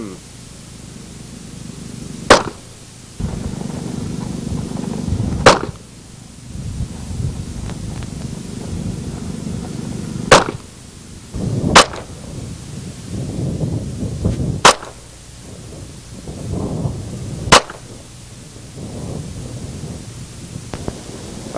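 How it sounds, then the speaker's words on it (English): Six sharp gunshots ring out one by one at a few-second spacing during an outdoor shooting event, each a loud crack over steady background noise and murmuring voices. "Let's start shooting."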